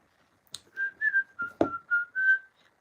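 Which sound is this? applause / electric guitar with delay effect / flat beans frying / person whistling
person whistling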